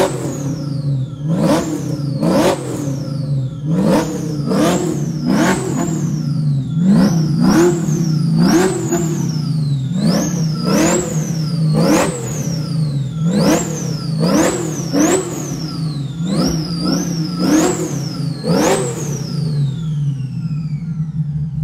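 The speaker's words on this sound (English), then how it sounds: "Right now, rev na natin." A V8 car engine, either a 2002 Mercedes-Benz SL500 or a 1969 Camaro SS, is revved in about fourteen sharp blips that rise and fall in quick rhythm. The engine is loud and close, with no talking.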